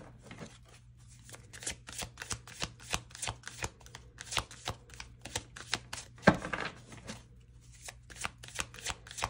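Oracle cards shuffled by hand in a quiet room, a long run of quick, crisp riffling flutters in steady rhythm, close and fairly loud, with a low hum behind and no talking.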